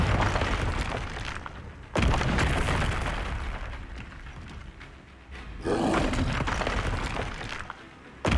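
Loud booming blasts from the Confringo fire spell in Hogwarts Legacy wizard duel combat, several heavy roaring bursts in a row with sharp onsets around two and five and a half seconds, no talking.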